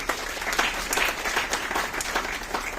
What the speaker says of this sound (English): The judges truly deserve a round of applause for this.